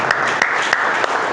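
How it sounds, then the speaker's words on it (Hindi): An audience claps during a motivational talk on consciousness and life, a short, loud burst of steady group applause with a few sharper individual claps standing out. "ताली बजाइए।"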